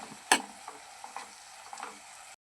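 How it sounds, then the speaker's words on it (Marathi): Tomatoes being stirred in a cooking pan, a sharp scrape followed by a few soft scattered clinks and faint sizzling, close and fairly quiet, with no voices. "आता मिक्स करूया"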